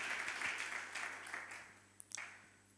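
A church congregation applauds together during a morning service, broad clapping rising at the start and then gradually thinning and fading over a few seconds, with a couple of sharp isolated claps near the end.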